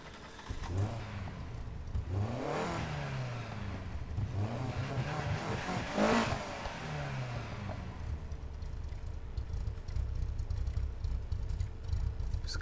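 A car engine in the video game Need for Speed Heat revs repeatedly with exhaust growl, climbing and dropping in pitch through several throttle blips before settling into a steady idle hum, with no talking.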